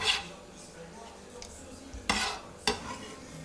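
Mango stewing in a saucepan with a little water, stirred with a utensil: a soft simmer under a few sharp scraping clinks against the pan's side, spaced about half a second to a second apart.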